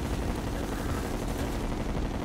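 Gunfire in the video game Terraria: a continuous dense roar of rapid shots, loud and unbroken throughout.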